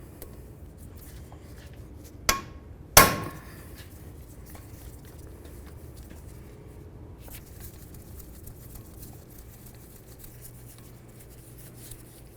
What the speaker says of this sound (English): turn this counterclockwise so we're applying pressure, and give it a couple loving bonks to break it free